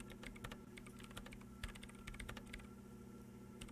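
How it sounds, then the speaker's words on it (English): Keyboard key presses on a computer keyboard during play of the video game Disco Elysium, a steady run of light, close clicks and taps over a low constant hum, with no voices. "presses unmute on her keyboard"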